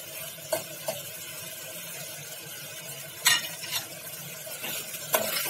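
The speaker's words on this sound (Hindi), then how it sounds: "अब हम इसमें कटहल डालते हैं।" Jackfruit going into a pan of tomato gravy with potatoes, a low simmering sizzle punctuated by several sharp scrapes and clinks of a spoon mixing it against the pan.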